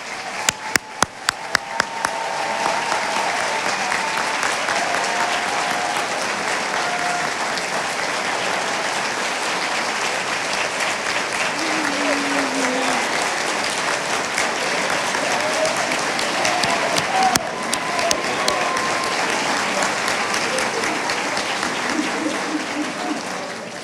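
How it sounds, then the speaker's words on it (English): Sustained audience applause for graduates at a school commencement ceremony, a dense, steady wash of clapping from a large crowd lasting throughout, with a few sharp individual claps at the start and faint voices mixed in. "I think we should all give them one big round of applause"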